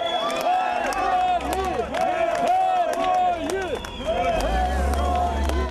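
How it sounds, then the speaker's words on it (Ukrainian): A crowd in Lviv greets buses of returning 80th Airmobile Brigade soldiers with sharp scattered claps, shouts and voices rising in loud, wavering cheers, close and lively throughout. "Автобуси з бійцями зустрічали урочисто оплесками та вигуками герої."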